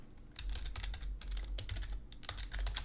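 Rapid keyboard typing in uneven bursts, close and fairly quiet, with short pauses between runs of keystrokes and a low hum underneath.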